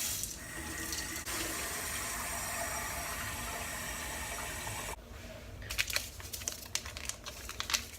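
A kitchen tap runs steadily into a cup, a constant rushing splash for several seconds before it cuts off, followed by a few crinkling and clattering handling sounds.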